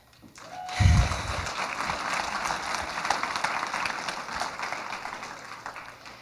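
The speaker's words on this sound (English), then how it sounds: "for that I want to applaud us all" An audience at a medical school Match ceremony breaks into applause, a dense wash of clapping that rises after a low thump and holds steady for several seconds.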